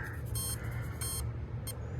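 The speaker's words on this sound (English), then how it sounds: "So I'm getting 2 long beeps and 1 short beep." An ARRMA Kraton RC car sounds an electronic warning pattern of two long beeps followed by one short beep. The tones are high and thin and ring over a steady low background hum.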